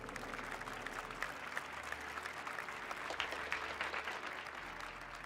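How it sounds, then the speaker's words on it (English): A large audience at an esports trophy award ceremony applauds continuously, a steady, dense wash of clapping heard faintly from a distance over a low hum. "Give up applause to Team Vitality,"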